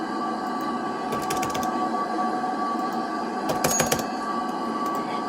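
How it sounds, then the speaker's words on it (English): A tram running fast in the railway video game Rails Unlimited gives a steady rolling rumble with a thin whine, broken by bursts of sharp metallic clicks and rattles of wheels over the track, with no voices. "this tram's going ludicrous speed"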